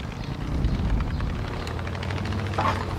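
A plane in the video game Far Cry 5 bounces off a mountainside while its engine roars steadily and loudly. A brief impact-like burst comes near the end.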